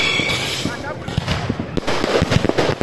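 Rapid crackling and popping bursts of New Year's Eve fireworks in Japeri, dense and continuous, with people's voices mixed in and a noisy outdoor background.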